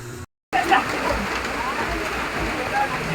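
Heavy rain drums steadily on a house roof, with water dripping through from above, a dense continuous wash that follows a brief silent gap at the start.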